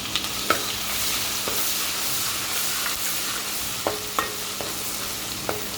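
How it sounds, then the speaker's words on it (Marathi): Ginger, garlic and chili paste sizzles steadily in hot oil on a gas stove for fish curry, with a constant frying hiss broken by a few sharp stirring clicks and taps near the end. "तर गॅसवर तेल ठेवलेलं आहे, तेल गरम झालेलं आहे. आता आपण ह्याच्यात वाटण टाकूया."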